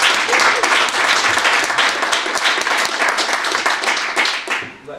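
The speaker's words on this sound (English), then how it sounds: "I want to give our guys a big round of applause" Loud, dense applause from a crowd for a college basketball team, sustained and close, fading out over the last second.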